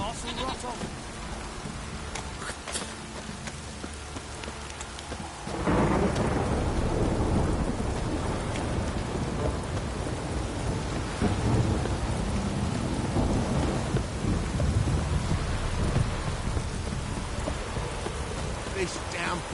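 Rain hisses steadily in the video game The Witcher 3: Wild Hunt, then a loud thunderclap breaks and rumbles on as the downpour grows heavier, continuing for a long stretch.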